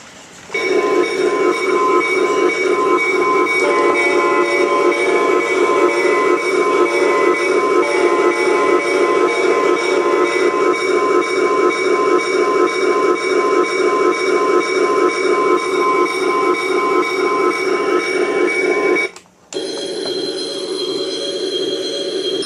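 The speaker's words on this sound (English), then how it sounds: "So let me pull the train into the station here." A train's sustained, loud horn-like tone holds for many seconds, briefly interrupted near the end before continuing, with rail rumble underneath.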